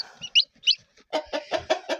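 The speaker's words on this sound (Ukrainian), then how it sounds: "Кури вон деякі ховаються у хліб, деякі йдуть нестися" Chickens cluck nearby in a quick series of short, throaty calls, a couple of higher squawks followed by a steady run of five or six clucks.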